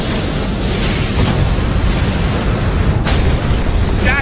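Massive secondary explosions rip through a starship in the Star Trek film Horizon. They make a loud, continuous rumbling roar with a sharper crack near the end.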